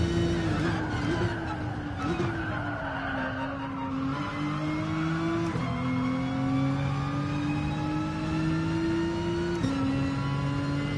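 A race car on a straight in GT Sport, its engine note rising in steady pitch sweeps through gear changes, loud and continuous from start to finish with no speech over it.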